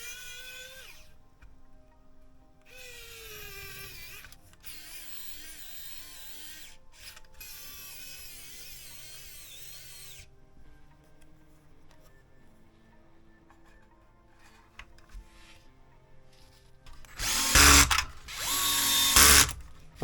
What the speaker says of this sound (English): adjust the screws until the hinge moves freely